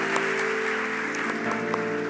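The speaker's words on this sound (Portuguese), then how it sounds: "Vamos aplaudir." Congregation applauding during an evening church service, a short burst of steady clapping filling the hall with a faint sustained tone beneath.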